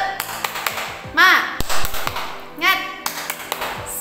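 Children clap a quick rhythmic pattern together, with sharp bursts of hand claps between short shouted calls from young voices.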